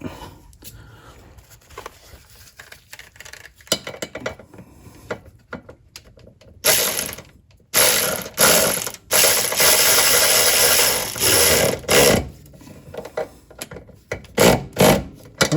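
Ratchet snugging down bolts during transmission service on a 2013 Mercedes C300 W204 4Matic, with quiet clicks at first, then loud bursts of rapid ratcheting close by.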